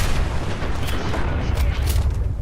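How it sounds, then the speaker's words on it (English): A sentry bot's fusion core detonates in Fallout 4 VR, a loud low rumbling blast with crackling bursts that roll on continuously for a couple of seconds. "They've got the fusion core detonation of the sentry bot"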